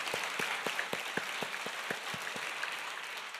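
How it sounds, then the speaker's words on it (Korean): Congregation applause in church, a fairly even wash of clapping hands with a few sharper individual claps standing out, moderate in level and steady throughout. "박수 올려드리겠습니다."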